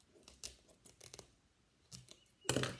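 Scissors snipping through a recycled can or carton while making a bird feeder, with several short, close crisp cuts spaced irregularly and a louder final snip, no talking.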